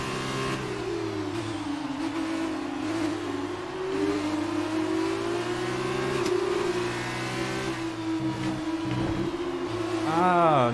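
Racing car engine from the F1 2019 video game revs loudly and steadily, rising and falling in pitch over about ten seconds and climbing sharply near the end, running alone without talk.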